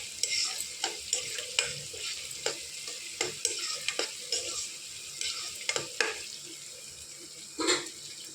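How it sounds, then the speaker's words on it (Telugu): Onions fry lightly with salt in a pan under a quiet sizzle, while a utensil stirs and scrapes in regular sharp strokes about once a second, close and unaccompanied by speech. "లైట్గా ఫ్రై చేసుకుందాం."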